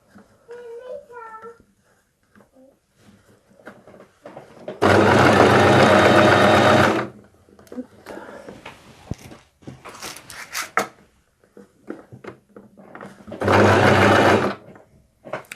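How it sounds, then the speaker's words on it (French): A sewing machine runs a straight stitch on a fabric bulk-goods bag in two loud bursts of rapid chatter, about two seconds and one second long, with someone speaking between and around them. "On se met en point droit et on coud ça."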